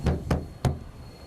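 The large door of a T-1 aircraft is closed, producing three dull knock-like thuds in quick succession at close range over low ambient hum.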